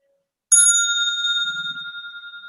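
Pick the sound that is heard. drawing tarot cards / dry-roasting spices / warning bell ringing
warning bell ringing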